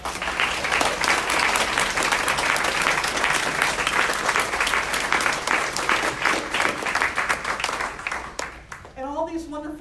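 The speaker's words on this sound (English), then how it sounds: "Can we please give them a huge round of applause?" Church congregation giving a long, loud round of applause during a sermon service, steady dense clapping that fades near the end as a voice begins speaking.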